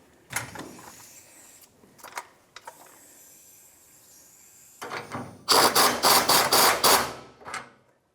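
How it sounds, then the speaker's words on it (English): Hydraulic jack being lowered under a 1992-1996 Ford F-150 in a fuel tank job, with scattered metallic clunks and scrapes, then a loud burst of rapid ratcheting clicks near the end, no talking. "Let's let the jack down."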